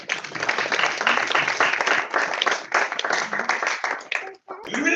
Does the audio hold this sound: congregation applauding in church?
yes